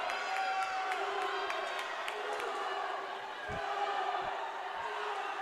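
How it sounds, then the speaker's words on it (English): Spectators cheering from the stands at a collegiate swimming meet between Swarthmore and Gettysburg, a distant crowd roar with whistles and scattered shouts, steady throughout with sharp knocks at intervals. "And they're cheering on Wong right now"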